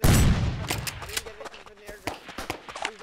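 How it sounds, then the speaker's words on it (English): Gunfire in the survival game Rust: a heavy blast opens, followed by scattered sharp shots and footsteps under a player's talking. "I'm being shot at"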